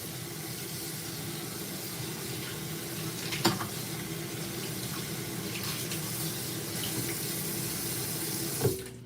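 Kitchen sink tap running steadily as raw meat is washed under it, a continuous close splashing rush with two brief clunks of the meat or plate against the basin.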